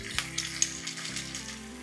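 Chopped onions and capsicum fry in a pan for a chilli mushroom starter, giving a soft, steady sizzle with a few small crackles and a low hum beneath, all fairly quiet.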